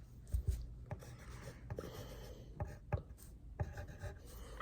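A pencil writing a word by hand on paper, with soft scratchy strokes and light taps at an irregular rhythm, close and quiet with no talking.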